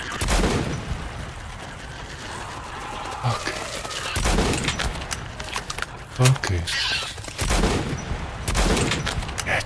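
Gunfire in Metro 2033 Redux in the catacombs, several loud shots spaced through the stretch, under and between someone talking.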